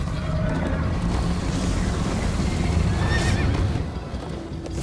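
A horse neighs loudly over continuous pounding hoofbeats and rumbling motion, all close and intense.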